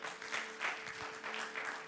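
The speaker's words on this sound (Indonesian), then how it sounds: "Kasih tepuk tangan dong buat tim volunteer kita." Faint, distant clapping from a church congregation at a Sunday service, applauding the volunteer team, with a low steady hum beneath.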